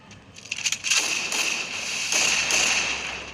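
MP40 submachine gun fire in a battle royale video game, a quick burst of sharp cracks followed by a sustained, slightly distant rushing noise.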